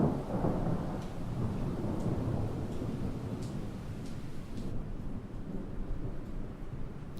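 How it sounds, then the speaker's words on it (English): Thunder and rain in the Project Zomboid video game, a steady rush of rainfall under a low, continuous rolling rumble that eases toward the end. "Hey, the thunder's going."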